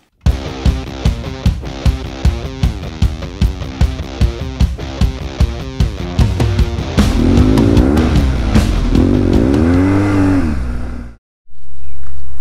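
A 1200cc, 100-horsepower custom adventure touring motorcycle engine revs in loud, rhythmic bursts, then climbs into a sustained roar that cuts off abruptly before a low idle resumes close by.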